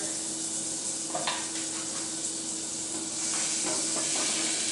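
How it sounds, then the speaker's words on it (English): Butter melting in a pot as the base of a roux, giving a steady soft sizzle and hiss with faint stirring and a light clink of cookware, close and continuous with no talking. "So we're going to go ahead and add our butter in there."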